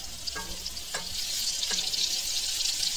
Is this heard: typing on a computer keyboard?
no